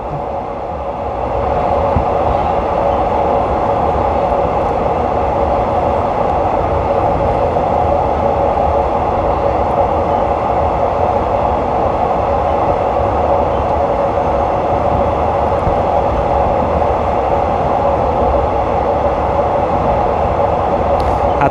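A train rolls from Don Mueang toward Krung Thep Aphiwat station in Bangkok, giving a steady, loud rumble with continuous wheel and carriage noise that holds evenly throughout, no voices.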